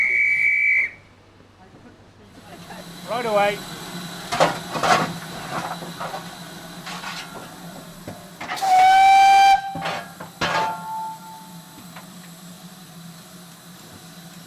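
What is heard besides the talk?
GWR steam locomotive setting off, releasing steam from cylinders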